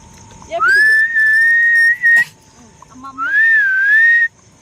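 A person whistles loudly to call dogs, giving a long sustained whistle, a brief short blast, then another rising and falling whistle, close and clear.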